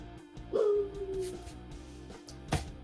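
A dog whimpers in a single drawn-out, high-pitched whine that fades, followed by a short sharp knock. The whine is faint and sits over a steady low background hum.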